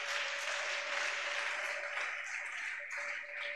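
A church congregation claps together in continuous, even applause throughout a sermon service, with a faint sustained tone running underneath.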